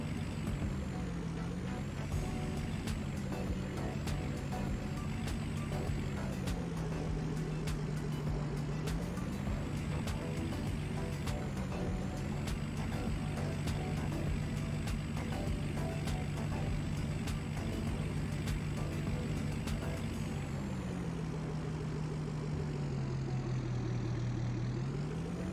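Truck engine idling and revving with steady drone and shifting pitch in a farming video game set in a midwinter Susquehanna River Valley, a high repeating tone overhead, no talk.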